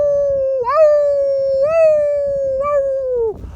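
A dog lets out a long, sustained howl close by, the tone wavering and rising in three swells before breaking off.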